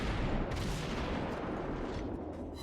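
Naval gunfire from a warship in World of Warships, a dense rumbling barrage of heavy booms that fills the whole stretch, loud and continuous, with no talk over it.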